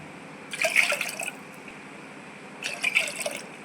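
Water is poured from a cup into moong dal (pasiparuppu) in a pot while making ukkarai, a Tamil sweet. Two short pouring bursts splash close by, separated by a quiet pause.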